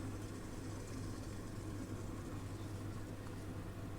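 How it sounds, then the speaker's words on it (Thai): Kitchen suction fan running while potatoes boil for mashed potatoes, a steady low droning hum with a constant tone and broadband whoosh, unbroken and fairly quiet throughout. "ขอโทษขออภัยด้วยพี่น้องเสียงสีดังแน่ยายติ๋มเปิดตัวดูดจ้าตัวดูดควน"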